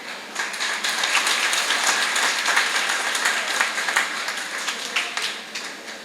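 Applause from the audience at an annual convention of a welfare society for the blind rises after a quiet start and holds as a dense, even patter of many hands before tapering slightly.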